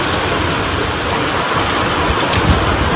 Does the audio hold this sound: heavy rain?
yes